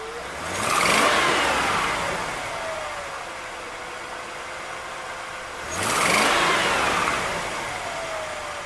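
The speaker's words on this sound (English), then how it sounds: "y'all heard me rev it up there" A 2001 Vortec 8.1 engine with TPS fault codes idles steadily, then surges twice in loud revs, each winding up and settling back to a rumbling idle.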